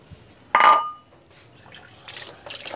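Water for chicken tinola is poured into a cooking pot in one short splashing burst, followed by quieter clinks and rustles nearby.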